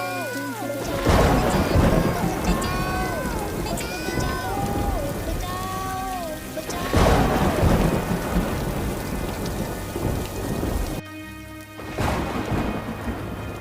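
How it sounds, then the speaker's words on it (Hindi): Heavy, steady rain roars throughout with deep thunder rumbles, while music plays over it and a voice speaks; the downpour briefly drops out near the end. "फिर से काले बादल छा गए और तेज बारिश होने लगी।"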